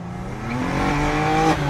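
A BMW E46 M3 engine revs up steadily with rising harmonic pitch as the gears shift, then dips and climbs again, loud and close, with no talk.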